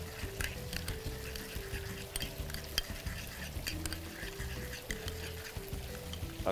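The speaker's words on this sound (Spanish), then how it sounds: "Aquí incorporamos ya nuestra salsa. Mezclamos." Sauce being mixed into a pan for a Caribbean cocktail dish: a steady sizzle and fry with rhythmic scraping and clinking of a utensil against the pan, close and continuous, with no talking.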